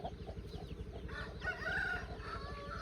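Village chickens cluck and a rooster crows faintly in the background, the calls soft and a little distant over low rumbling ambient noise.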